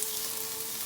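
Onions frying in hot oil hiss in a steady, close sizzle for a brief moment, with no voices.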